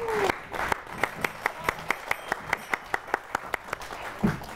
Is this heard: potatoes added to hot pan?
no